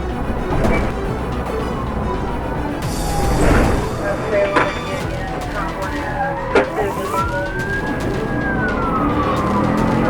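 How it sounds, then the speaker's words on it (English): Police sirens wail and rise and fall beneath a talking voice, mixed with traffic noise and a few sharp knocks. "a convoy of police cars closed in, sirens wailing through the chaos."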